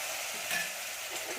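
Kathiyawadi drumstick curry with spices sautéing in a pan, a steady soft sizzle with faint stirring scrapes, close by and with no talk.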